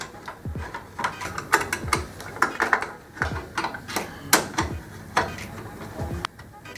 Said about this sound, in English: Line it up with the motherboard and screw it in.